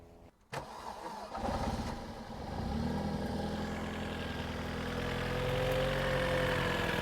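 Opel Zafira GSi with a damaged Z20LET engine cranks, catches and fires up after long storage, then settles into a steady, slightly uneven idle, close and alone.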